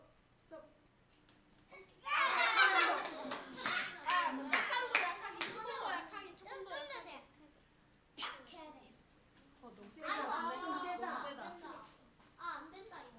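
Children in a church Sunday school class clap in two short bursts, close and lively, with children's voices chattering in between and over the clapping.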